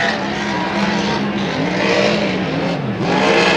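Race car engine running at the Valleyfield Grand Prix time trials, a steady loud droning roar with shifting pitch throughout, no speech.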